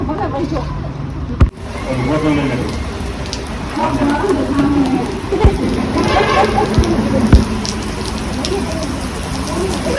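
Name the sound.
heavy rain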